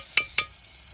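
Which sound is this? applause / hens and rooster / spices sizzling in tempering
spices sizzling in tempering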